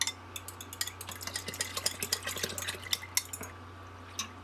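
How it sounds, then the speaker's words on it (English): A fork stirs yogurt culture inside an Instant Pot for homemade blackberry frozen yogurt, giving a steady run of light metallic taps and clinks over a low hum, close and without talk. "stir it in here. I'm careful not to scrape the fork on the bottom"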